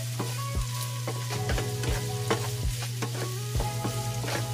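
Garlic frying in rendered pork fat in a pan, a steady close sizzle with repeated scraping and stirring knocks at a rough, irregular rhythm, under a constant low hum, no speech.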